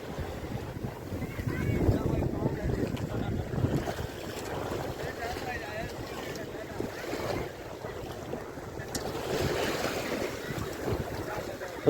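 Sea waves wash and roll at Girgaon Chowpatty beach in Mumbai while steady wind buffets the microphone, a continuous broad roar with surging swells, heard alone without voices.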